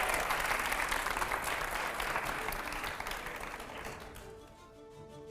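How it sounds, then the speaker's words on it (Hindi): An audience at a Hindi interview event breaks into loud, dense applause that holds steady, then gradually fades and thins near the end into a quieter room. "जोरदार तालियां।"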